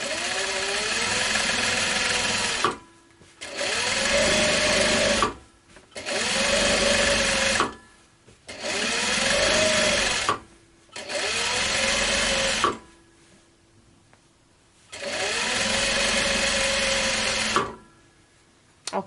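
Industrial Juki sewing machine quilting a scrap quilt, running in six steady stretches of a few seconds each with brief stops between them, close and even in pitch.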